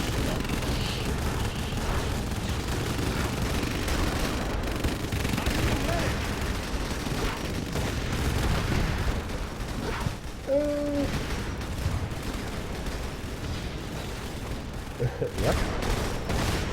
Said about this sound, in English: Keep on bombarding.